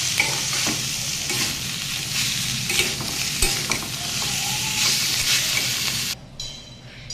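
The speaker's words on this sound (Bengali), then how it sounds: "শাকের গা থেকে কিন্তু তেল ছেড়ে দিয়েছে আর মশলাও কিন্তু ছেড়ে দিয়েছে" Leafy greens fry in oil in a wok under constant close stirring, with a loud, steady sizzle and scraping strokes before the sound drops to a quieter hiss near the end.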